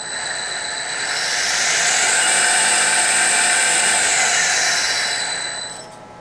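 A three-phase AC motor spins up from 430 to 6,500 RPM, its whine climbing steadily in pitch and loudness, holding a high steady scream, then easing off at the end, with no talking.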